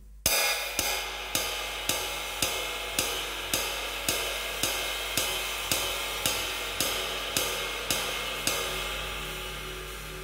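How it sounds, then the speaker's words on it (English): A jazz ride cymbal is struck in steady, evenly spaced quarter notes, each bright ping ringing out with a long shimmering wash. About a dozen strokes sound close and clear, with no talking. "in jazz, we communicate the time primarily from the ride cymbal,"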